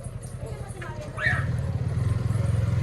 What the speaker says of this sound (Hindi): गाइस बाइक आ चुकी है अपनी।